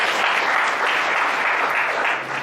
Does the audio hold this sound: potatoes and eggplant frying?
no